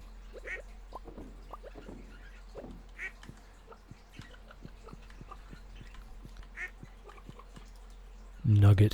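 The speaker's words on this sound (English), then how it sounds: "Duck Vader has been petted." A duck being petted in the farming game Stardew Valley gives short quacking calls, scattered among other game sounds and faint background chatter, with a louder burst at the very end.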